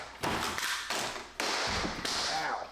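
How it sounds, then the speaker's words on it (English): A trim nail gun drives fasteners into door trim, firing four sharp, loud shots up close at uneven intervals, with each crack ringing out briefly before the next. "we're gonna set it all in place with our trim gun"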